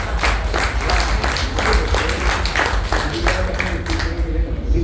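An audience claps through a self-development talk given by a former MHADA president, a steady dense patter of many hands with some voices mixed in.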